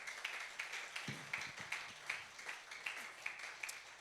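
Moderate applause from a church congregation, steady rapid clapping throughout, somewhat distant, with a few louder individual claps.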